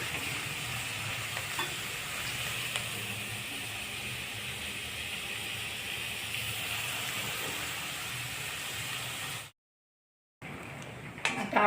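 Onions sautéing in a pan make a steady, soft sizzle with faint stirring, running evenly and quietly before a brief silence near the end.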